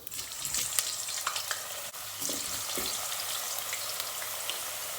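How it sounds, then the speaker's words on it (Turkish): Potato and eggplant pieces frying in hot oil in a pot, a dense continuous crackling sizzle close by, broken by stirring scrapes and a brief dip near the middle. "Son patlıcanlarımız da kızardı."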